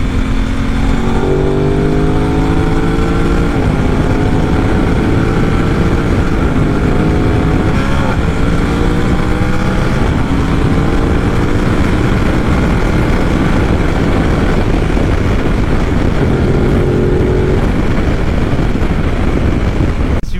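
An Aprilia RS 660 motorcycle, restricted A2 version, accelerates under steady loud wind roar, engine pitch climbing and stepping through several gear changes.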